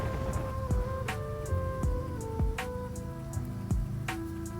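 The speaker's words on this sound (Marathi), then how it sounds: "बारीक पाऊस चालू होता." Light rain falls during a drive along a road beside forest land, with steady patter, scattered sharper drop hits and a low continuous rumble, no voices.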